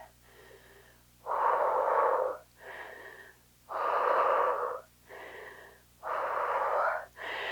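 Heavy breathing after a bodyweight Tabata workout, loud close rhythmic inhales and exhales in long wheezy bursts about every second or so, with no talking.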